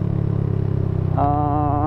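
A Suzuki Satria FU motorcycle fitted with an aftermarket silencer idles with a low, pulsing engine note, then revs up sharply near the end into a rising, harmonic exhaust tone, close and loud.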